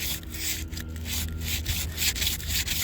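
Steady, gritty rubbing of sandpaper against a plexiglass skylight, continuous back-and-forth scraping close up with no voices.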